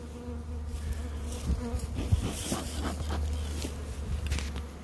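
Honey bees buzz steadily around a strong, healthy beehive, a dense continuous drone up close with individual insects swelling louder as they pass near, and no voices over it.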